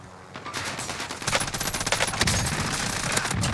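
Rapid automatic gunfire rattles in a multiplayer shooter match, loud close bursts of shots firing back to back over a couple of seconds.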